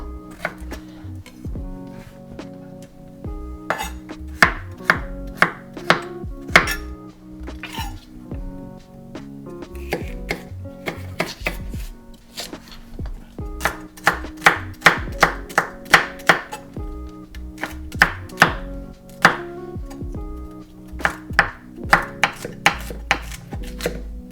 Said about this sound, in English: we are going to finely chop some vegetables, as we will be sauteing these to make the base of our soup.